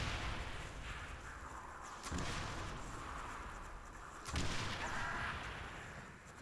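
Panzerschreck rocket launcher blasts in a Call of Duty custom zombies map, two heavy booming impacts a couple of seconds apart over a dense rumbling background.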